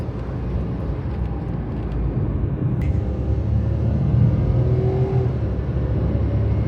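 A Honda Z UM4 turbo kei car engine runs smoothly after maintenance that included a new timing belt and water pump. It gives a steady, close-range low hum with a slight rising whir, heard from inside the cabin.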